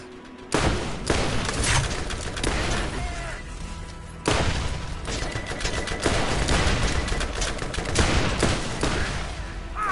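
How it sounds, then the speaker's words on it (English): Dense, loud gunfire in Borderlands, with rapid bursts and overlapping shots in several heavy waves, and a voice speaking briefly beneath the shooting. "Who's shooting me?"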